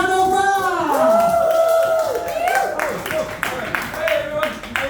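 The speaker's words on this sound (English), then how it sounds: "Let's try and get another big round of enthusiastic applause." A comedy club audience applauds and cheers for a comedian, with a steady wash of clapping and whoops under a loud voice and tonal stage sounds.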